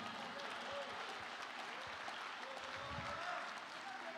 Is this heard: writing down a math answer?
no